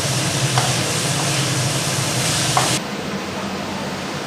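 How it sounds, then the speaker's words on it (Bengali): Steamed snake gourd and potato pieces with onion are stirred in a hot pan for a curry, giving a steady loud sizzle with scraping strokes that drops to a quieter hiss partway through. "এবার নাড়া হচ্ছে সবজিগুলো দিয়ে"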